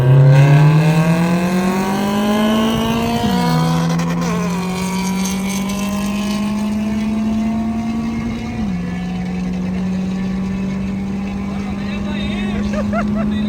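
Two race cars, the K24 Monster and Project FX, roar past on a night track with loud, sustained high-revving engine notes that shift pitch as they pass and move off, joined by faint background voices.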